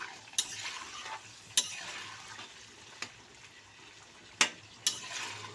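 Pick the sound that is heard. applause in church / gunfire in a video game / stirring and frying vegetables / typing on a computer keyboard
stirring and frying vegetables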